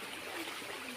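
Stream water spilling over a small waterfall among rocks, a steady broadband rush with a faint gurgle, moderately close and continuous, no voices.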